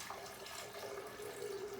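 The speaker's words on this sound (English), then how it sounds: "take our water and I'm going to pour it up to the 2 cup line" Water poured into an IKICH CP216A electric kettle, a faint steady trickle whose pitch rises slightly as the kettle fills, with no talk.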